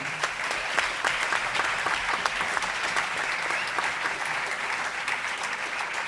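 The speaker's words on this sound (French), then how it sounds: "Je voudrais qu'on l'applaudisse chaleureusement." At Festival BAO, during an Armel Dupas Trio concert, the audience claps warmly and steadily for the festival's artistic director, a full, even round of applause with distinct hand claps audible throughout.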